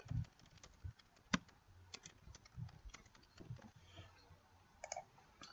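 Fingers typing on a computer keyboard with irregular, fairly close key clicks, including one sharper tap, at a quiet level with no voice.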